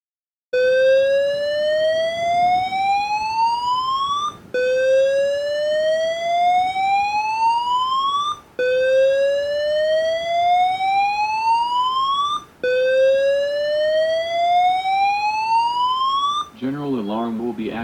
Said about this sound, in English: Caution. Kitchen fire alarm detected smoke.